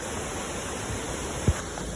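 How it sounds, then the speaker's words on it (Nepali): River at Sundarijal running high and heavy, a continuous broad rushing roar with one brief soft knock partway through. "आज चाहिँ ठुलो पानी बगिरहेको रहेछ"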